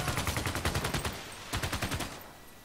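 A unit in the strategy game Civilization VI shooting at a barbarian: rapid bursts of gunfire in quick rhythmic volleys, two clusters separated by a short gap, fairly close and moderately loud.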